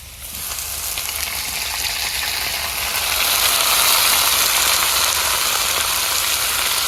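Onions and garlic tempering in a pan in a village kitchen, a loud, steady sizzle with dense crackling that holds for several seconds and swells slightly midway.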